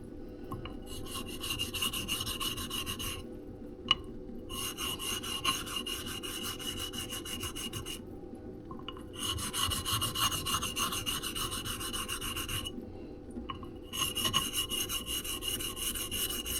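Steady rhythmic rasping of a bronze blade stroked back and forth across a whetstone, repeated strokes with brief pauses between passes, close and fairly quiet.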